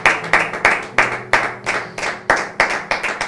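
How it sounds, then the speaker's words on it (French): Congregation in a church clapping in a steady, loud rhythm, about a dozen sharp hand claps close by with no voices. "merci d'acclamer le roi, merci d'acclamer le Seigneur"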